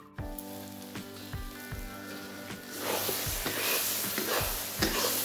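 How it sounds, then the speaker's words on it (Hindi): Mustard-based masala roasts slowly in a pan on low flame for a Bihari katla fish curry, giving a soft, steady sizzle that thickens and grows louder midway, with tonal background music throughout. "धीमी आंच पे भून रहे हैं।"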